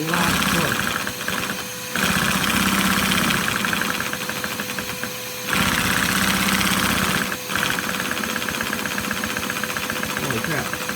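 A Lego inline two-cylinder OHV vacuum engine runs with a fast, steady mechanical chatter and whir, loud and close, cutting in and out in several bursts over the span.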